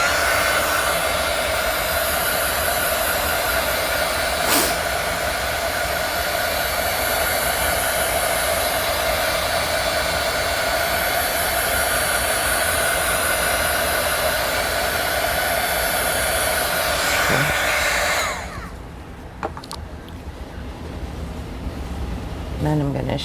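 Heat tool blowing to dry Distress Ink on a stamped card background, a loud steady whirring roar held close for about eighteen seconds before it is switched off and winds down.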